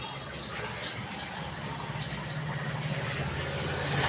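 A pot of water comes to a boil for cooking egg vermicelli, giving off a steady, close, dense bubbling hiss that swells slightly toward the end.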